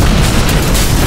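A dense, loud TNT explosion rumble fills the whole moment, a continuous roaring boom with no voices over it.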